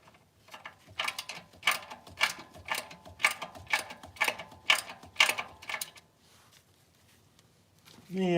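A hand ratchet tightens a bolt on a transmission, giving about ten evenly spaced, sharp clicking strokes close by. The clicking stops and is followed by quiet, then a louder sound right at the end.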